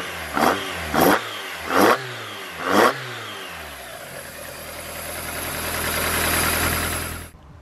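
A Miata fitted with a 4A-GE engine and individual throttle bodies blips sharply four times in quick succession, then settles into a rising, sustained rev before dropping off, close and loud with no talk.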